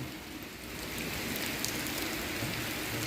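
Steady rain falls and patters on surfaces outdoors at a riverside bridge during a fishing trip, a dense, even hiss that holds close and constant with no voices.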